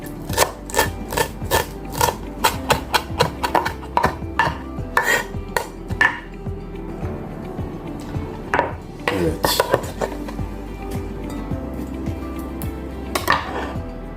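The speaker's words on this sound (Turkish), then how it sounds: "Maydanozlarını da doğrayalım." A knife chops parsley rapidly on a cutting board in quick bursts of sharp taps, pausing briefly before resuming the rhythmic chopping, close and clear.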